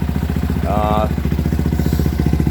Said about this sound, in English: Just put on that front brake, rev it up, cut the clutch out, and hold on to her.